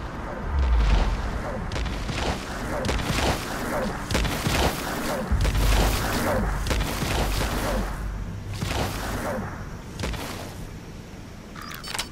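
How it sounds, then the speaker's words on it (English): Cover fire in Metal Gear Solid V: The Phantom Pain, with repeated booming explosions and gunfire bursts rolling through the scene at steady intervals, loud and heavy against a rumbling backdrop. "Begin cover fire."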